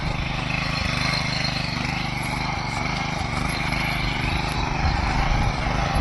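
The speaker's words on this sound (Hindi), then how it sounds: "उनका ट्रैक्टर खेत की जुताई हो रही है" A tractor ploughing a farm field gives a steady, loud engine drone that runs unbroken throughout, with no pauses or changes in pace.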